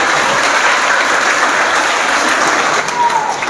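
Loud, steady applause from a crowd at a Teachers' Day program, continuous clapping lasting throughout with no voices over it.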